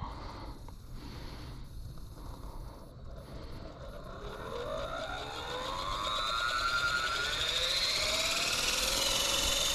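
Blade Fusion 360 Smart RC helicopter rotor spooling up, a faint whine that climbs steadily in pitch and grows louder over several seconds as the blades gain speed, with no talking.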